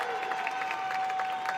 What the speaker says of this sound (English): That big eruption from the crowd there was our Chartiers Valley cheering section